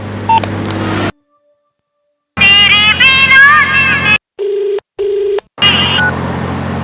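A loud electronic phone ringtone melody plays, then two short electronic beeps sound, with abrupt silent gaps between the parts.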